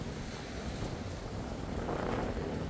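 Strong wind gusting on a beach, a steady broad roar with surf-like wash, growing slightly louder toward the end, with no voices.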